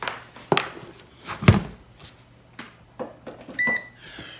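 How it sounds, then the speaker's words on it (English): A Magic Butter machine being plugged in and started up for CBD oil, with several close clunks and handling knocks followed by a short series of bright electronic beeps near the end. "we're going to go ahead and fire up our magic butter machine"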